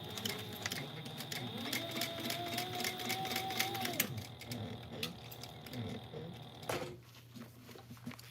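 A sewing machine stitching a seam, a fast steady mechanical whirr with clicking rhythm that rises and pauses briefly, then resumes more softly, heard up close without talk.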